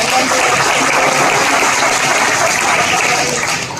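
Loud, steady applause from a gathering at a Guru Vandana event in a Lakshmi Venkateshwara temple, a dense wash of clapping that holds throughout and eases slightly at the end.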